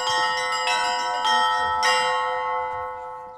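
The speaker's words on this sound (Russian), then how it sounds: "Колокольный звон, стихи и песни – все это создавало душевную атмосферу для зрителей." Church bells ringing at a cultural event with spiritual chants and folk performances, several clear strikes in an irregular rhythm over a sustained ringing hum that slowly fades.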